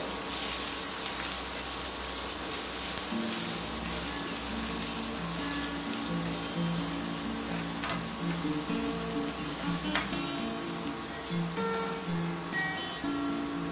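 Onion sautéing in a pan for quinoa khichdi, a steady close sizzle with soft crackles and a low background hum throughout, no talking.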